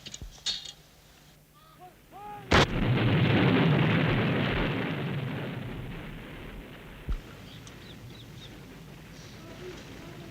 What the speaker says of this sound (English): the guns were prepared for firing